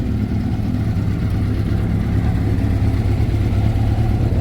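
A Honda CBR 600F Hurricane sport motorcycle, a 1987 model, runs with a steady, loud engine and exhaust rumble close by, holding an even idle-like drone throughout with no talk over it.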